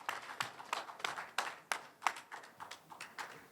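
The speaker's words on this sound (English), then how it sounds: "we clap for the chair" A small audience at a human rights and assistive technology event claps for the chair, faint and sparse, with separate, irregular hand claps rather than a dense wash.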